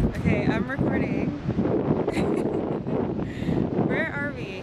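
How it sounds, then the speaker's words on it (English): Strong coastal wind on the Amelia Island shore buffets the microphone in a steady broadband roar, with people talking over it throughout. "Super windy, but still really beautiful."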